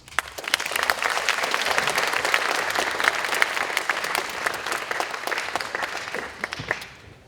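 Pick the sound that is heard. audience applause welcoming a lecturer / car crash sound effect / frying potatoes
audience applause welcoming a lecturer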